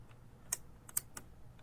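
A few light keystrokes on a computer keyboard as a label keyword is typed, three or four separate clicks spaced out over a low background hum, close and fairly quiet.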